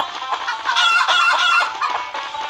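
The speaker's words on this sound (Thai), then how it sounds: "เออมีเสียงฟาร์มด้วย" Chickens cluck and a rooster crows on a farm in a video game, a busy, close, loud stretch of overlapping clucks and calls with no talk over them.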